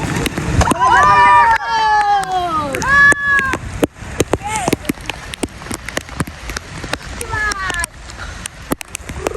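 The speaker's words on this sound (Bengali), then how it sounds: "প্রচুর বৃষ্টি হচ্ছে" Heavy rain patters densely on surfaces all around, with loud voices calling out over it early on before the downpour carries on steadily.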